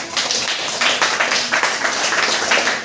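A class of sixth-grade students clapping together, a steady patter of many hands close and fairly loud for a few seconds, with no talking over it.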